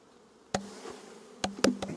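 Honey bees buzz loudly right after a few sharp knocks as they are shaken off a frame into a hive, with more thumps following, all close up and with no talking.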